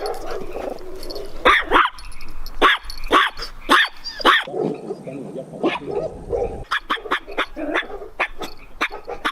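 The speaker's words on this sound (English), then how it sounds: "Should I get a small dog, such as the rat here, or should I get a larger dog, such as Crypto" Dogs, a small one and a larger one, bark loudly and close in a rapid series of sharp barks and yips, with brief pauses between bursts.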